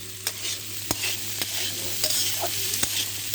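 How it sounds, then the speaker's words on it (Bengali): Overnight-soaked chickpeas fry and sizzle in a pan, with a steady hiss broken by several sharp stirring clinks and scrapes, close up and with no voices. "ছোলাগুলো আমি রাত্রে ভিজে রেখেছিলাম, তার কারণে আমি 2 থেকে 3 মিনিট ভেজে নেব।"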